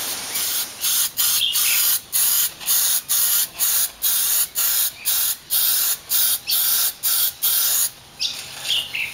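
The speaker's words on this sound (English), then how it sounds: "just giving it an undercoat with some Kill Rust heavy duty primer" An aerosol can of Kill Rust heavy-duty primer sprays onto a Subaru Brumby's body in a series of short, even bursts of loud hiss, roughly one per half second, separated by brief pauses.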